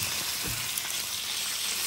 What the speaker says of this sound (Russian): Ничего, что масло брызжет. Вообще брызгать должно.